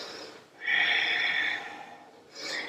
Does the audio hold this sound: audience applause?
no